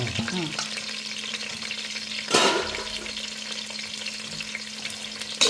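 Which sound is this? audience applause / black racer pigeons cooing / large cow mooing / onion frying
onion frying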